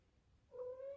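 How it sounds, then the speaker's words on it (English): A pet cat lets out a single short meow close by, a clear rising-then-steady tonal call after a quiet start. "sorry, that's my cat."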